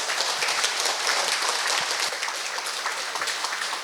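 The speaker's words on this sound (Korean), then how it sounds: "천고 스님께도 큰 박수 부탁드립니다" Steady applause from an audience at a Korean Buddhist lecture and discussion session, dense continuous clapping held at an even level for the whole stretch with no voices over it.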